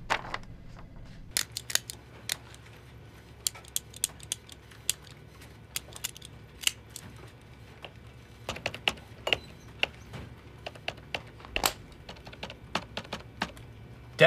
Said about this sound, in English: Jim, are you clicking a detonator?